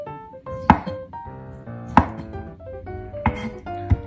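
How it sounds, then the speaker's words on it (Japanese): A knife cuts the top part of a bamboo shoot into wedges on a board. Four firm, evenly spaced chops land close by over soft background music. "まずねタケノコを切りますね。 上の方はね、くし切りにします。"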